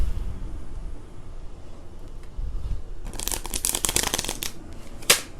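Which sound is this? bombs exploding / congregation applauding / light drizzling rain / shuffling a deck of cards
shuffling a deck of cards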